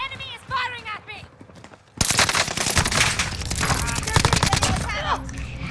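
Enemy gunfire in a multiplayer video game erupts suddenly as dense, loud rapid bursts of shots that continue without pause, following a short stretch where a voice speaks.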